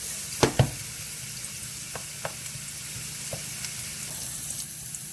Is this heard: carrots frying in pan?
yes